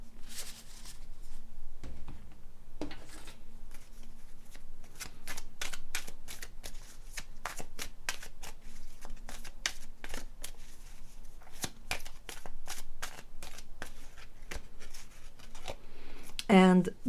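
Tarot cards are shuffled by hand in a quiet room, making a long run of crisp riffling and flicking bursts in an irregular rhythm, close and fairly steady throughout.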